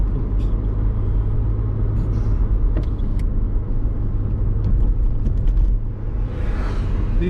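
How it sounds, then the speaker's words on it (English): A city bus drives along a street, giving a loud, steady, close rumble of engine and road noise with brief higher clicks and a hiss near the end. "These new buses are cool, where they drive up and kneel down like."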